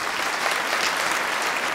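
Audience at a Tamil youth speech forum bursts into steady, dense applause, loud and continuous throughout with no talking over it.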